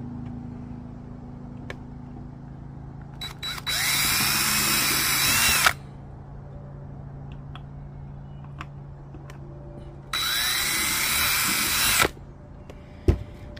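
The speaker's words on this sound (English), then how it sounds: "to drill the main one, I'm going to use my step bit" A power drill on a TYM T25 compact tractor runs in two bursts of roughly two seconds each, loud and close, with quiet workshop pauses and a few small clicks between them.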